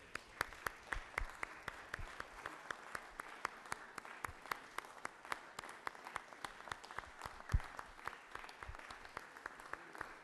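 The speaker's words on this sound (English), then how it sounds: "Let us, if you would, lead me in commending him with a round of applause." Applause in a Georgia Senate chamber session, many hands clapping in a steady, moderately loud patter that carries on for several seconds in a large room.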